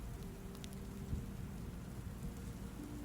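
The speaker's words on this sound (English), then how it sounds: "A light, soothing rain began to fall." Light, soothing rain falling steadily at a camp by a lake at night, a soft continuous patter with a low rumble beneath and no voices.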